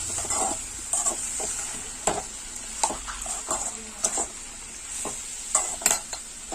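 A spoon scrapes and clinks against a pan in uneven strokes while plantain pieces sizzle steadily underneath as they fry.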